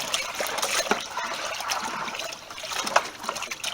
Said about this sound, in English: Okay, so we're going to stir this up.